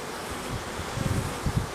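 Honey bees hum at an opened beehive, a low, soft buzz that swells in a few short surges near the end, close by with faint rustling and no talk.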